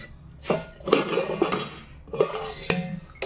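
A metal lid is set onto a pot while hibiscus tea is made, giving a few sharp clanks and rattling scrapes in two bursts, close and fairly loud, with no voices.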